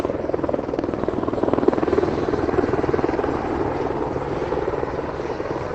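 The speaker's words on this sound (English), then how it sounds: "Oh, we got one helicopter flying." A helicopter flies overhead in Paris, its rotor beating as a fast, steady thump under a broad engine roar, moderately loud and constant through the short stretch with no speech.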